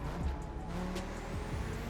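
An Audi RS2 Avant in The Crew Motorfest racing game drives with a low, throaty engine note that rises and dips through quick gear changes, fairly quiet and steady with no talking.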